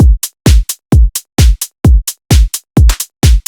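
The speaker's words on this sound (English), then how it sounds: "you need to use a sidechain so we get a little bit of the pumping on the hats" Hi-hats in a minimal bass groove pump against a sidechained kick, loud and alone: each kick thump ducks the hats, which swell back in between in a steady bouncing rhythm of alternating deep hits and bright ticks.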